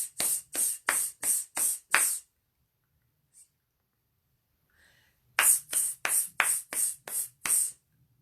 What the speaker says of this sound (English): So it's 7 hisses. I'll count them here.